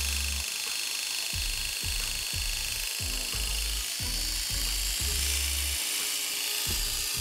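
A hair clipper runs with an unoiled blade, giving a steady loud buzz with a rough, pulsing rattle that surges in quick repeated bursts throughout, close and alone.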